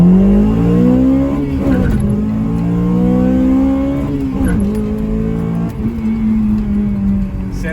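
A Honda Civic Type R FN2 with a K-series engine and breathing mods accelerates hard, the loud engine note climbing steadily through the revs, dipping briefly at gear changes and rising again, close and continuous.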